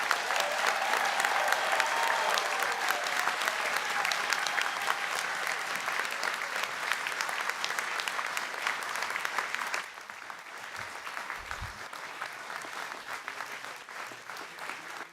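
Large audience at a university doctoral degree ceremony clapping for PhD graduates, sustained dense applause that drops slightly in level partway through and continues without speech.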